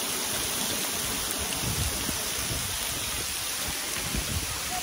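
Water streams pour down steadily at Gaighat waterfall, a continuous broadband rushing that sounds close by and constant, with no voices.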